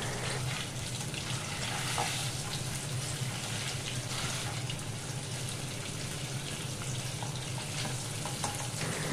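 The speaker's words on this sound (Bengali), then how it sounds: "তেল গরম হয়ে গেলে পনিরের টুকরোগুলো তেলের মধ্যে ভাজতে দিয়ে দিলাম।" Paneer pieces fry steadily in hot white oil in a kitchen, a continuous dense sizzle and crackle at close range with no talking over it.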